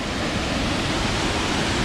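A constant, dense rush of falling water at Hulu Ganga waterfall in Kandy, carrying a heavy flow. The hiss stays close and unbroken throughout, with no talking.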